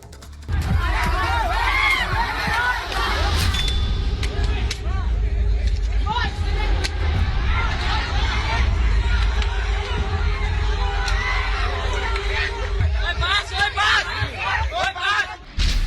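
A large angry mob shouts and yells together during a lynching of two saints, a constant roaring din of many overlapping voices, loud and close, with scattered shrieks and cries rising above the crowd.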